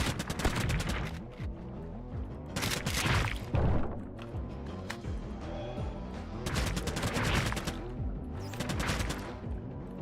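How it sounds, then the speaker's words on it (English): Bursts of SMG gunfire in an indie shooter video game, rapid crackling volleys in several clusters with heavy continuous in-game action underneath, loud and close throughout. "The SMG ain't too bad once you get used to the recoil it's got."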